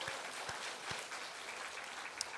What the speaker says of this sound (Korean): 우리 뜨겁게 박수하겠습니다